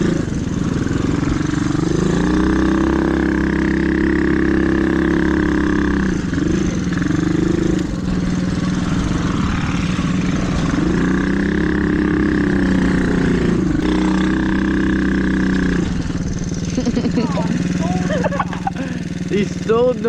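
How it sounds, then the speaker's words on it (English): Mini bike motorcycle engine on a loamy dirt trail drones loudly and steadily, rising and falling through repeated revs and throttle changes close to the microphone, with brief speech mixed in. "He stalled the motorcycle."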